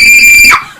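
A woman lets out a loud, piercing scream for a horror story, a single sustained high-pitched shriek that breaks off abruptly after about half a second.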